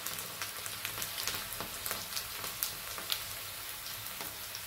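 Farsan fries in a pan and is turned over. A steady close sizzle runs throughout, broken by scattered light scraping and stirring clicks. Nobody speaks.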